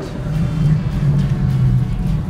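A 2014 Shelby GT500 Mustang with 662 horsepower being driven, its engine giving a steady deep low rumble heard from inside the car, loud and continuous with no speech.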